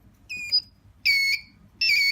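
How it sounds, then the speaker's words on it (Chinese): A smoke alarm's electronic buzzer, triggered when a reading drops below its set value, sounds in three shrill beeps, the last two longer and louder, separated by short gaps of quiet. "蜂鸣器报警了"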